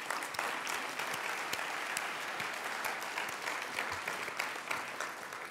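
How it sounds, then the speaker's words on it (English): Applause for the event team at a heritage awards ceremony, a sustained crowd of clapping hands with crisp individual claps poking through, steady throughout and free of talk. "let's give a round of applause to our event team."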